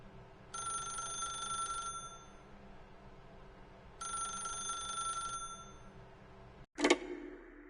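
A telephone rings in the video game The Stanley Parable, two long bright bell trills separated by a pause, followed by a sharp click as the receiver seems to lift, with a low room hum underneath.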